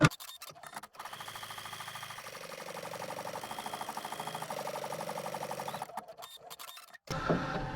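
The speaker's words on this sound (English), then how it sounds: "I'm going to stitch out the blue box of stitches, which will just secure everything together" An embroidery machine stitches out a free-standing lace panel for an apron design, running a steady, rapid mechanical clatter that holds for several seconds, starts and stops briefly, and sits close and fairly loud with no talk.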